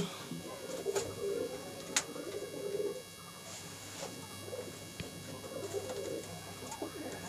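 Andhra pigeons coo in a loft, soft repeated throaty calls rising and falling at close range over a steady low background hum.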